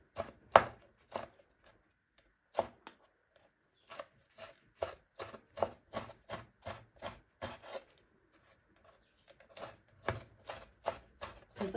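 Knife chopping raw meat for kitfo on a board, with a sharp, close, evenly spaced run of blows that stops, resumes in quick bursts and pauses again.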